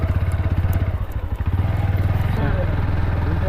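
Motorcycle engine running close by with a steady throbbing putter, rising slightly in the second half as it rides on, loud and continuous.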